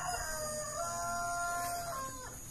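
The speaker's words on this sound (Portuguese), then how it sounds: "E os galos estão cantando." Roosters crowing on a rural property, a drawn-out cock-a-doodle-doo with overlapping calls, somewhat distant and faint, with no talk.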